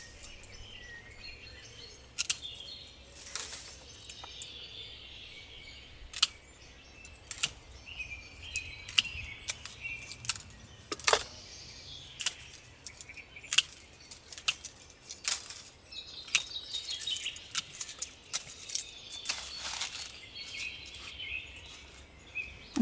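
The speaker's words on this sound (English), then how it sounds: "Now it is time to prune this hydrangea Annabelle." Garden pruning shears cut a hydrangea Annabelle back to the ground outdoors, with irregular sharp snips and clicks scattered over a quiet stretch and faint birdsong in the background.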